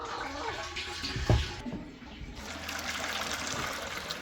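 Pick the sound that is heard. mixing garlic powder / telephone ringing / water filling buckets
water filling buckets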